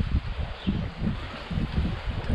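Gusting wind buffets the microphone out on open water during a fishing trip, a steady low rumble that swells and eases in uneven pulses.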